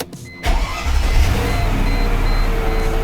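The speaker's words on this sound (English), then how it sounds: "we're going to start the car" A Mercedes engine cranks and catches after a brief quiet moment, then settles into a steady, close idle rumble. No voices are heard.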